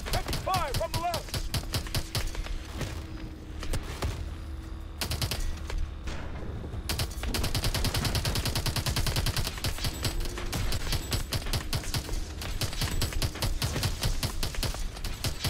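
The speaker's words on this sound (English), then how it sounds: "Heavy fire from the left!" Heavy gunfire in the Call of Duty Advanced Warfare campaign's Bio Lab mission: dense, loud bursts of automatic fire and explosions rattle on almost continuously, with brief lulls, and a voice calls out now and then.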